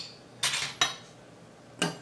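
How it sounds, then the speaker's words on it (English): A metal spoon clinks against toy magnets in three quick separate contacts, small bright metallic taps with a light ring, close and quiet. "Let's see what happens when I add a spoon."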